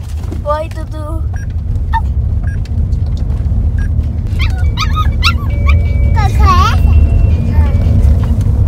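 A dog yips and whimpers in short bursts over a constant low engine rumble, with a few sharper barks near the end.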